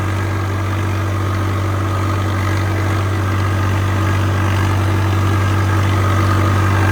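A Swaraj 855 tractor engine labors under load while sowing wheat on a farm, giving a steady, loud, close diesel drone with a deep hum that holds unbroken throughout, with no voices.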